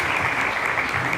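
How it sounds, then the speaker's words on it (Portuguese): A brief burst of audience applause at a talk on the Billings ovulation method, a steady wash of many hands clapping together with no voice over it. "Merece uma salva de palmas, né?"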